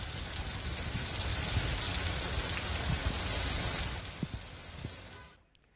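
Steady heavy rainfall in Pune, a dense continuous hiss of drops on surfaces that holds loud and even before cutting off abruptly at the end.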